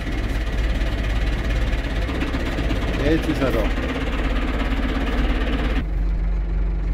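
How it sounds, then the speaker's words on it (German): A tractor engine idles steadily with a low, constant drone in a woodland where dead ash trees are being recovered, as someone speaks briefly in German over it. "Traktor funktioniert jetzt einmal."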